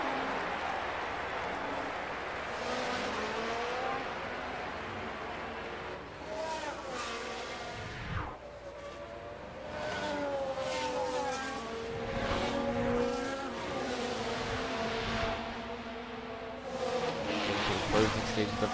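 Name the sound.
race cars lapping in a race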